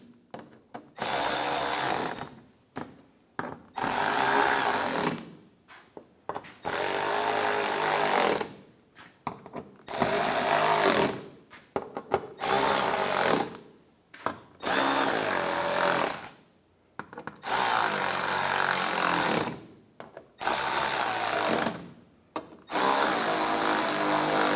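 Power tool driving screws into a 2015-2019 Lincoln MKC headlight assembly, about nine loud close bursts of whirring each lasting a second or two, separated by short silent pauses.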